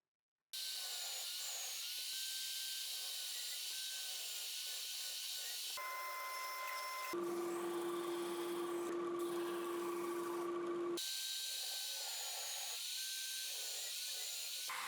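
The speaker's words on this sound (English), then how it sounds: "Now I'll cut and machine the pieces for the drive handle." Power tools cut and machine wood and acrylic pieces for the handle of a homemade portable mortiser. Loud, steady whining motor runs change pitch in sections, with a deeper sustained cutting tone in the middle and no talking.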